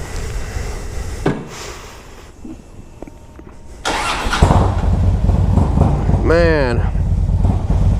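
A 2008 Harley-Davidson Ultra Classic 105th Anniversary motorcycle rumbles steadily, with its engine growing louder and deeper partway through, under a voice speaking briefly.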